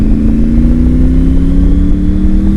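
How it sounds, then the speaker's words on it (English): Triumph Tiger 900 Rally Pro motorcycle with an aftermarket exhaust pipe, a deep, loud engine drone that rises slightly in pitch as it accelerates, close and continuous with no talk. "Can you hear the exhaust tone?"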